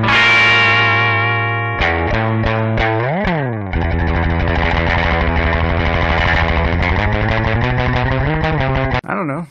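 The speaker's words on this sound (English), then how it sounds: "That sounds like a fat surf guitar." Electric guitar run through a DigiTech RP360XP effects preset set for a fat surf tone, playing loud sustained chords, a quick rising and falling slide, then a steady run of picked notes and strums.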